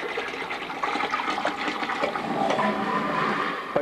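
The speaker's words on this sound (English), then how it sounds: "and then pour the liquid right into the sink" Liquid from a bucket being poured into a hospital hopper sink, a continuous splashing, gurgling water rush that holds steady and close for about four seconds with no voices.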